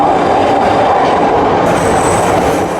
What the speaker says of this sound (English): now we are in the train